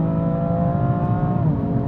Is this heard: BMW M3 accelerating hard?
yes